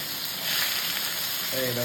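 Food sizzles steadily in a pan in a home kitchen, a continuous broad hiss that swells slightly midway, with a brief voice-like tone near the end.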